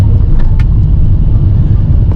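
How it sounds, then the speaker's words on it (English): A 2022 Honda HR-V with a CVT gearbox accelerates hard, producing a loud, continuous low engine roar with road and wind rumble, steady throughout and without speech. "you can hear the engine scream at first when you press the accelerator harder"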